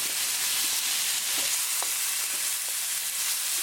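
Tomatoes hit sautéed onions on a hot griddle for a lobster tail curry, giving a steady, close hiss of frying with faint stirring clicks throughout.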